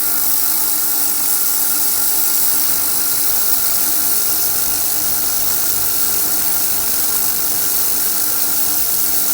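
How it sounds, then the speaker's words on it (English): Constant high-pitched electric whine and hiss from an ultrasonic cleaner running nonstop with Holden HR Ute carburettor parts inside, close and fairly loud, with a steady low hum beneath. "I've just dropped a couple of parts in the ultrasonic cleaner"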